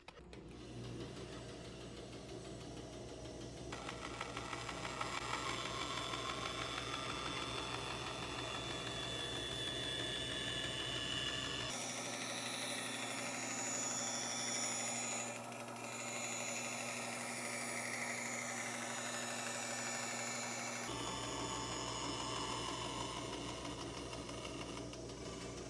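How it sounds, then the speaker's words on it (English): A bandsaw cutting wood for a Shaker step stool hums steadily and fairly quietly, its tone shifting as the blade works through the board, with segmented changes in pitch and no voices. "For this cut, I'm going to use the bandsaw, and I'll apply pressure to the back of the blade as I'm making the cut,"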